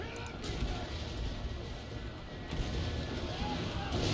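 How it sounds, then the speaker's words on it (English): Mortar fire in a Total War battle booms and rumbles in a dense, continuous low roar of distant impacts and battle noise, swelling louder toward the end. "that's exactly what I'm aiming for now with my mortars"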